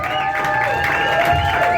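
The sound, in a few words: audience applauding and cheering for performer Ophelia Summers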